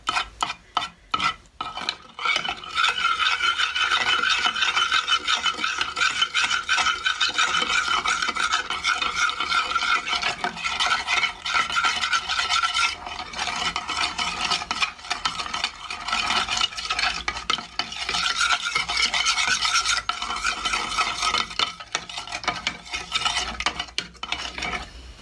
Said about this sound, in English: So you might need to stir it and whisk it a little bit.